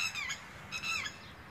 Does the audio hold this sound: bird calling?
yes